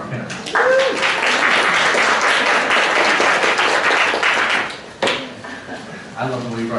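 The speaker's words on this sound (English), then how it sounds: "Round of applause for our panelists." Audience clapping for panelists coming up at a Gainesville community panel event, a loud burst that holds for a few seconds, drops sharply, then briefly returns with a voice speaking near the end.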